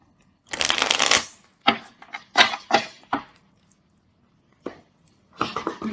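Deck of tarot cards shuffled close up: a long riffle followed by several short crisp bursts of cards snapping and sliding, then another riffle at the end, with no speech.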